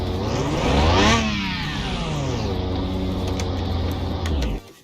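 A McLaren engine in Car Mechanic Simulator 2021 starts with a loud rev that climbs and falls, then settles into a steady, close idle hum before cutting off abruptly at the end.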